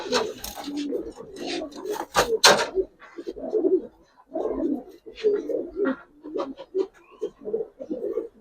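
Jabra Giribaz pigeons in a loft give repeated soft, throaty coos at close range, with bursts of wing flapping and shuffling mixed in. A person talks quietly at times.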